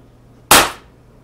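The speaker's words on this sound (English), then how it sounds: "now we'll be shooting the Makarov Ultra pistol" Single sharp crack of a Makarov Ultra CO2 blowback BB pistol firing a 4.5mm steel BB, close and loud with a quick decaying tail, no talk.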